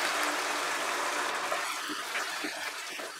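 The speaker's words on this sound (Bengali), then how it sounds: "এবার আমি এর মধ্যে জল অ্যাড করছি, এক কাপ মতো আমি জল অ্যাড করলাম" A cup of water pours into a pan of coriander chicken curry, a steady close gushing stream that fades slightly toward the end.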